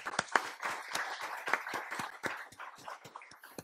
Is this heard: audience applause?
yes